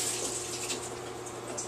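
A trout is rinsed under a running kitchen tap, giving a steady, close splashing hiss of flowing water that lasts the whole short stretch with no talking.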